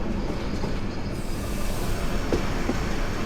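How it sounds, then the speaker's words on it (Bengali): A train at Narsingdi railway station gives off a steady, dense rumble that fills the scene without pause, with faint metallic ticks rising briefly near the end. "আর নরসিংদী রেলওয়ে স্টেশনে অলরেডি একটি ট্রেন দাঁড়িয়ে আছে।"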